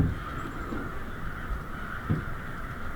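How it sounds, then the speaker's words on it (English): Crows caw repeatedly over steady background noise in the woods, a few harsh calls spaced across the moment, moderately distant. "Listen to the crows."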